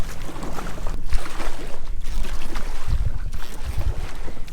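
A small dinghy paddled over open water near Cape Hatteras, with a loud, steady rush of wind and water, heavy wind buffeting on the microphone and low thumps of the hull and paddles, close and continuous.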